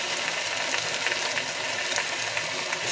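A pot of tofu vegetarian curry is stirred gently, giving a continuous bubbling sizzle with soft scraping movements and no speech.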